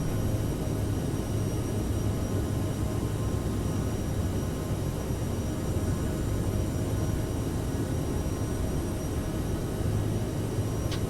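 Steady broadband roar of an Aerosoft CRJ900 jet climbing after takeoff in Microsoft Flight Simulator 2020, with the landing gear retracting; the engine noise stays constant and fairly loud without talk.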